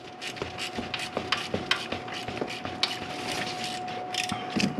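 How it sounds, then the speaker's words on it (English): A ratchet with a 10mm socket backs bolts off a 2002 Chevy Corvette engine during a head gasket job. Rapid, close, steady clicking runs nonstop for several seconds, with no voices. "we're going to take a 10mm and get these two bolts right here off"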